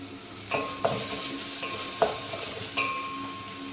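Medium onion and one tomato frying in a pot for hotel-style radish sambar crackle in a close sizzle, broken by several sharp spatula scrapes and light metallic clinks against the pan.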